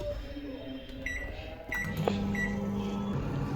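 A microwave oven reheats biryani in a home kitchen, its steady low hum starting partway through, with a few short beeps and clicks, close and moderate in level.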